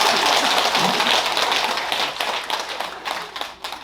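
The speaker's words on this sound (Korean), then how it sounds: "박수 한번 쳐주세요." An audience claps at a Buddhist winter solstice dharma service at a temple in Gyeongju, a dense burst of applause that gradually thins and fades.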